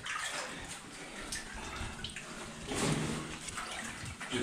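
Water splashing and sloshing in a flooded corridor of an old mine adit, near and continuous with a surge of louder splashing midway, echoing in the tunnel.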